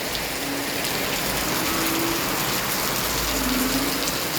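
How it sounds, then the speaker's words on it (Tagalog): A steady downpour hisses throughout, thick and even, with faint higher tones briefly surfacing over the roar of rain. "Grabe, sobra talagang lakas ng ulan."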